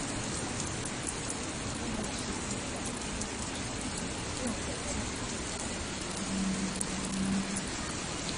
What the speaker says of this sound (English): Now outside it's raining.